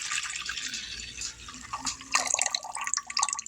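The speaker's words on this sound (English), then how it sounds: "So I'm going to put this beef broth in here." Beef broth poured into a crockpot for pot roast, a close liquid splashing and trickling stream that grows busier and more sputtery toward the end.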